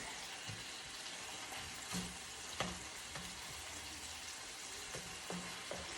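Ground turkey and garlic frying in a pan for tacos, heard as a quiet continuous sizzle with occasional soft stirring knocks and scrapes, no talk.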